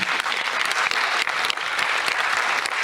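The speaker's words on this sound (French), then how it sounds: "on peut applaudir déjà ces 3 initiatives" Dense, loud audience applause at a session on care structures for young people with illness, a crowd clapping steadily throughout with no talk on top.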